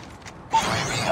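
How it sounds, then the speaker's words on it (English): A weapon reload in Call of Duty: after a quiet moment, a sharp mechanical clack followed by a brief metallic, creaky rattle of parts, close and fairly loud. "Reloading."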